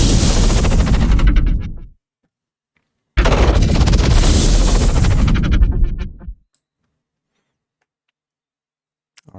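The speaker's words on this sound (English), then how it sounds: "I'm going to add this explosion and this whoosh and see how that sounds." Two loud, broadband synthesized hits made by layering an explosion and a whoosh in a granular synthesizer, each a sustained roaring burst lasting a few seconds and fading, separated by a short silence.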